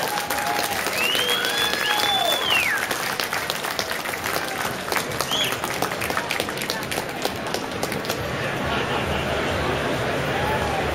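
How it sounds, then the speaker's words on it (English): Audience applause for a pin-up girl contestant at a contest, sustained loud clapping from a crowd with some cheering and a faint background hubbub, continuing for several seconds before gradually thinning out. "Please clap your hands for Keisha."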